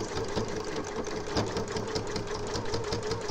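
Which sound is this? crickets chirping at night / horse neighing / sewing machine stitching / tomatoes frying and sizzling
sewing machine stitching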